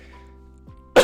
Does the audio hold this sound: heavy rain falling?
no